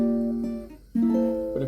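A jazz dominant chord strummed across all four strings of a ukulele, ringing as sustained tones, then fading briefly before a second strum rings out again, close and clear with no talking.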